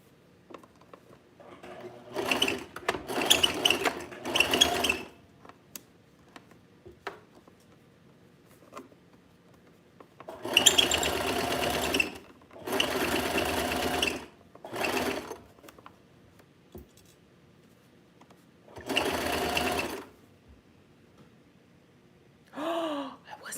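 A sewing machine stitches a tiered mini skirt in several close bursts of rapid mechanical whirring, separated by quiet pauses, with faint breaths between the runs.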